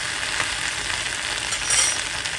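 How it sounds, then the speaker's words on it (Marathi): Masala okra (bhindi) frying in hot oil, a close, even, continuous sizzle with a slight swell near the end and no voices. "आता आपण ही 2-5 मिनिट आपण फ्राय करून घेऊया"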